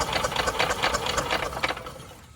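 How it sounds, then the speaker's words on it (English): An abandoned golf cart engine cranks over with a fast, rattling mechanical churn that stays steady and fairly loud for about two seconds and then fades. "I'm gonna crank it now and let's see if fuel is coming up there"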